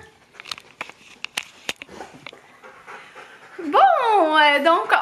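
A dog pants rapidly and close by, then gives a high, wavering whimper toward the end, while someone talks in French.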